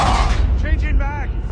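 Gunfire in the Call of Duty Mobile video game, with a loud, dense burst of shots and mechanical clatter that fades into faint whistling tones, heard close and continuous.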